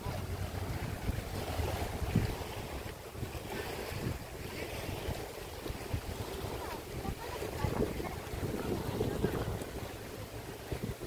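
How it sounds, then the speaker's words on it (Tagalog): Steady wind rushes and buffets across an open lake, with a low rumble and soft lapping throughout, fairly loud and continuous without pause. "Sobrang sarap ng simoy ng hangin dito sa lake na to."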